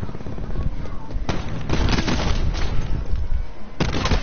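Gunfire in a shooter game, dense bursts of shots and booming impacts over a continuous loud battle din, with sharper cracks at irregular moments.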